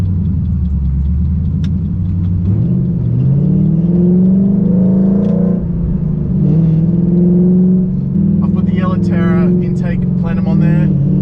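Ford BA GT with headers and a custom twin 3-inch exhaust, a loud deep rumble that rises and falls as it revs while cruising, with someone talking over it.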